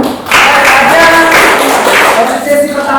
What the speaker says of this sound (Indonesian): Baik, terima kasih tepuk tangan